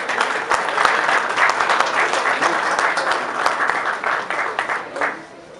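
An audience at a national static scale-model award ceremony in Mexico bursts into sustained, loud applause with dense clapping that fades near the end.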